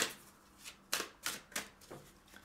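Tarot cards shuffled and laid down in a quiet room, five or six crisp papery snaps and slaps spaced irregularly, close and fairly soft with no talking.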